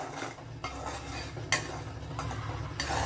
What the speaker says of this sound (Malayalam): റവയൊന്ന് വറുത്തെടുക്കാം